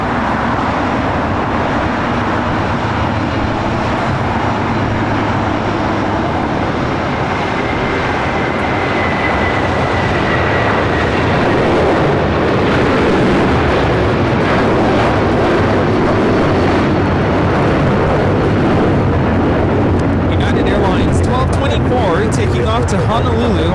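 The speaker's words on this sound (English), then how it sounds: "We have a United 757 on the roll" A United Boeing 757-300 accelerates down the runway at LAX on its takeoff roll, a loud, steady broadband jet roar that swells toward the end, heard from a distance with someone talking over it.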